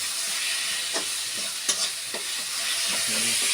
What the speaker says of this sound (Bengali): এখন আমাদের ঘরে মশলা কষানো চলছে